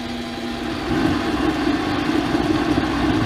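Pratt & Whitney Model B lathe turning at low speed, a steady mid-pitched mechanical hum with a faint rhythmic churn, continuous and fairly close with no talking.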